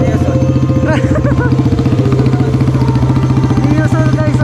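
Neosol 115 motorcycle engine idling steadily with a low, even mechanical throb and light clatter, close by at a motorsport show, with voices talking over it.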